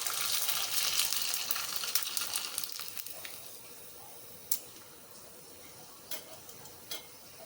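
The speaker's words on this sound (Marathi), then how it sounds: "अजून एक तळून दाखवते" Rava papad deep-frying in hot oil, a bright crackling sizzle that is strong at first and then fades to a quiet bubble, broken by a few sharp ticks.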